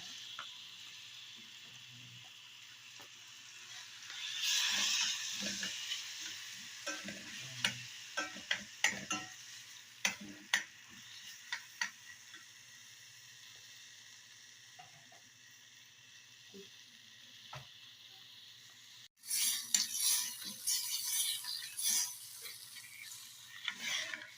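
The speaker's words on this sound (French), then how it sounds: "Juste un filet d'huile. Juste le faire revenir." Rice sautéing in a drizzle of oil in a pan, cooked for chicken-filled breaded rice balls, gives a faint, steady sizzle broken by scattered stirring clicks and scrapes, with a louder burst of frying toward the end.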